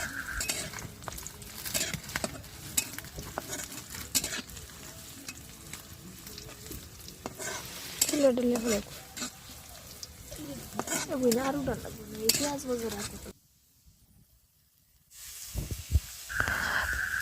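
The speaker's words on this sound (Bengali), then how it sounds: "পেঁয়াজ রসুন ভাজি করে নিলাম।" Onion and garlic frying in a pan on a gas stove, a steady sizzle with spatula stirring and clatter of the pan, a voice talking over it and a short silent gap near the end.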